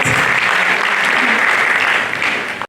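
Steady, loud applause from a conference audience at an annual international conference, a dense wash of many hands clapping together for nearly three seconds before cutting off abruptly.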